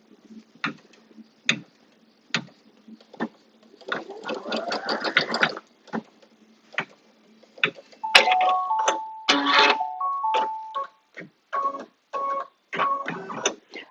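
An embroidery machine stitches a placement line on an in-the-hoop quilted A5 notebook cover, giving a run of close, rapid mechanical stitching ticks in a steady rhythm, with scattered clicks and brief electronic tones before and after.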